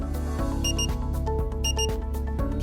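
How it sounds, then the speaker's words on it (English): A loud electronic double beep from a generator charger signalling full charge, repeating steadily, two quick high tones per cycle, over a constant tonal hum. "You will hear a repetitive double beep when charging is complete."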